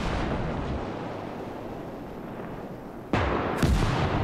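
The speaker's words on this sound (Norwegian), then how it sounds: "De har faen meg en kanon der oppe." An enemy cannon fires in the video game Call to Arms: Gates of Hell. After a low rumbling battlefield bed, a sharp booming shot cracks out near the end and is followed quickly by a second blast.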